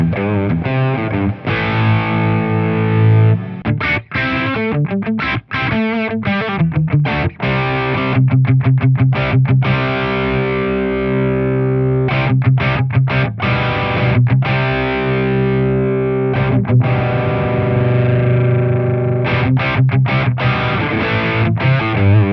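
Electric guitar played through a Plexstar overdrive pedal into a clean amplifier gives a driven, distorted tone, with chords and single notes in a rhythmic, stop-start pattern, loud and close, with no voices.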